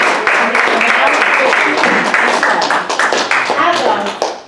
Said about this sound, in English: a round of applause for our new club officers